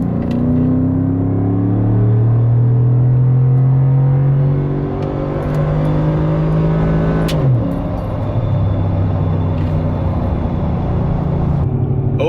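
A Ford F-150 with the 5.0 V8 and an MBRP 4-inch cat-back exhaust drones loudly and steadily from close by, its engine pitch sliding as it settles into a constant deep cruising hum.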